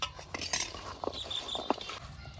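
Chicken pickle being mixed by hand in a bowl, producing soft wet squelching and scattered faint clinks, close and quiet, with no voices.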